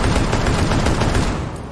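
Sustained automatic gunfire in the game Rainbow Six Siege, a loud, dense stream of rapid shots close by with no pause across the short burst.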